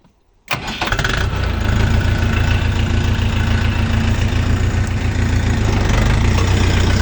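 A 2024 Dong Feng tractor with its diesel engine starting and then running loud and steady while it pulls a two-furrow plough, a continuous close-up drone with no talk.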